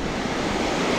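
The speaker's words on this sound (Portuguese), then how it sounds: "Deixar a onda vir aqui." Ocean waves break on a beach during fishing at Toninhas, a loud continuous roar of surf and churning water, close by with wind noise on the microphone.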